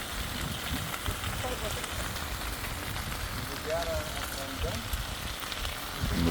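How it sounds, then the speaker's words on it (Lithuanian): Steady rain patters on surfaces outdoors during a rainy morning on a cycling trip through Switzerland, a continuous wash of fine hiss with faint voices underneath. "Orelis lyja, šlapia."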